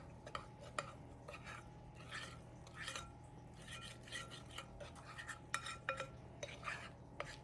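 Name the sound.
mixing cake batter with flour in a bowl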